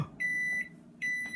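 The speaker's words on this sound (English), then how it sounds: "So when it beeps, you can say, oh, it's finished." A microwave oven signals the end of cooking with two clear, sustained electronic beeps separated by a short gap, close and loud over a faint room hum.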